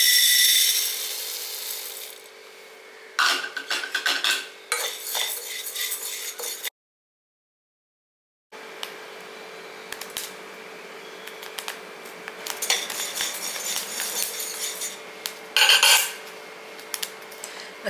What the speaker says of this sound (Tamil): இப்போ இந்த சிவப்பு சோளத்தை போடுவோம்.